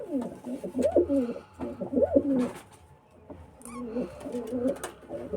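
Pigeons coo nearby in repeated throaty, rolling phrases, with short pauses between bursts.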